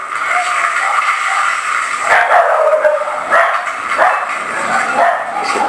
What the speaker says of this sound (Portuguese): Esse cachorro de vocês, né?